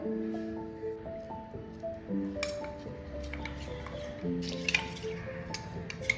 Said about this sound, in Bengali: এবার আমি অল্প করে একটু জল দিয়ে একটা ব্যাটার বানিয়ে নেবো।